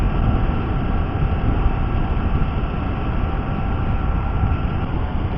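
A train running on the Konkan Railway line between Mangalore, Karwar and Goa, heard as a steady, loud broadband rumble and rattle of rolling wagons that continues unbroken throughout, with no talk.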